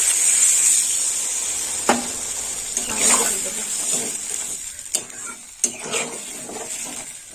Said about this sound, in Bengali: কষা হয়ে গেছে জল দিয়ে দেবো দিয়ে দিলাম জল